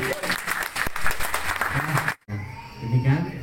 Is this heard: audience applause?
yes